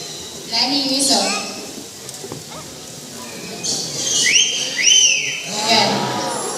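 At a bird show at Cebu Safari in Carmen, Cebu, a trained bird lets out two rising whistles on command amid ongoing talk and crowd murmur.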